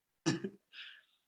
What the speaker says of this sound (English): I have a non-COVID cough.